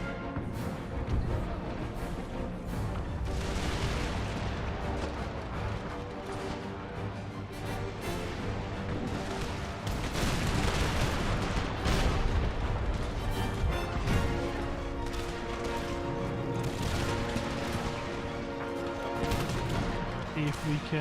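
Volleys of musket fire and artillery crash through an Empire: Total War battle, a sustained stream of overlapping bangs and cracks, loud and dense throughout with heavier surges midway.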